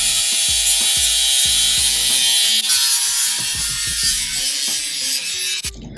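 An angle grinder with a cutoff wheel, guard removed, cuts through an old, rusty wrought iron gate, a loud continuous high-pitched hiss broken by repeated chattering bites and catches across several seconds, with no talk.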